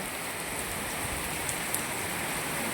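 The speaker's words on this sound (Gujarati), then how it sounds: "એક ધારો વરસાદ ચાલુ છે અત્યારે" Steady, continuous downpour over a Gujarat town market makes an even, dense hiss with no breaks, moderately loud and heard alone without voices.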